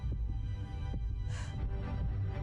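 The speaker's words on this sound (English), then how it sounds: "It's her own heartbeat." A muffled, low heartbeat throbs in a TV drama scene, soft repeated thumps under a steady hum with a faint breathy swell in the middle.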